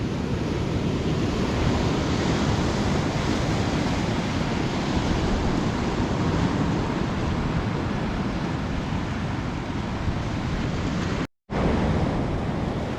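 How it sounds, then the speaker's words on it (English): Ocean surf on Shi Shi Beach roars as a dense, continuous wash of breaking waves heavily buffeted by wind noise, loud and unbroken apart from a brief dropout near the end. "Wow, there are huge swells in the direction I'm pointing."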